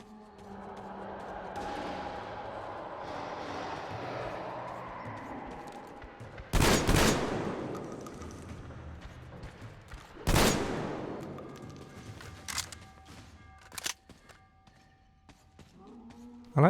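Gunfire from a weapon in Metro Exodus: two loud sharp shots several seconds apart, with a few smaller impacts, over a bed of ambient game noise and low rumble.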